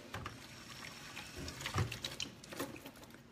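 Tap water runs quietly over food being washed in a sink, a soft continuous splashing with small knocks and bursts as items are rinsed under the stream.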